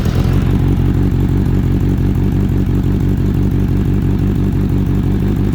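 Custom Suzuki Bandit 600 motorcycle engine running loud and close, a steady rapid mechanical rumble with a slightly rising note at the start, alone without talk.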